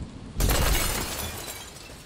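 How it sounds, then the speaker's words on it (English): A sudden loud crash of glass shattering, followed by a spray of tinkling fragments that slowly settles and fades. "A purple brand of lightning struck the cathedral, rending the painted glass to cinders."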